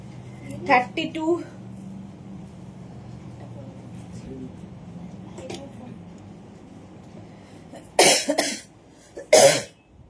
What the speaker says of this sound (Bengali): খুবই ইরিটেটিং এই কাশিটা